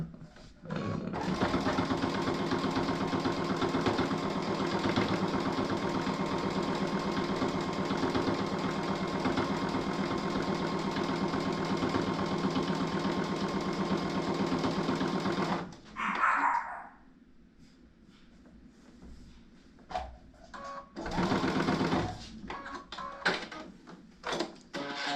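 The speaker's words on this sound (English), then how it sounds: "So we're gonna sew over a butterfly right now" Domestic sewing machine stitching over a Heat N Bond butterfly appliqué, a steady close whirring run for about fifteen seconds, then a pause with small handling noises before a second short burst of stitching.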